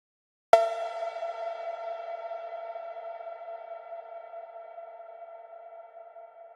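A single struck synth tone drenched in a large studio reverb rings out in a DAW-made IDM beat, a sharp attack followed by a long, slowly fading atmospheric tail heard alone.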